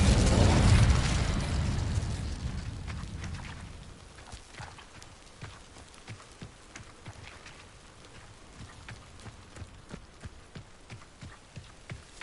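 The Incendio fire spell in Hogwarts Legacy bursts with a loud, deep whoosh that slowly fades over several seconds into quiet crackling and soft scattered clicks.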